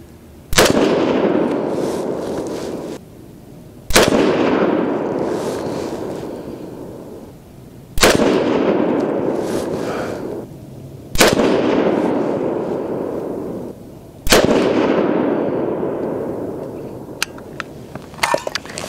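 A custom Grey Ghost AR10 rifle fires handloaded .308 Win rounds with 155-grain Lapua bullets over CFE 223 powder. Five loud, close, booming shots come several seconds apart, and each is followed by a long rolling echo.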